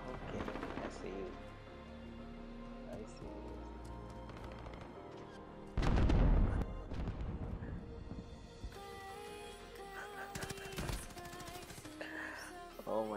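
Gunfire in Call of Duty Modern Warfare, with loud bursts of shots and a heavy blast around the middle amid game effects, while a player talks over the action.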